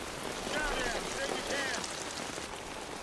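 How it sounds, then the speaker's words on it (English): Steady video game rain patters on a surface, soft and even, with faint synthetic chirping tones rising briefly above the hiss. "I bet you sleep good in that rain, though."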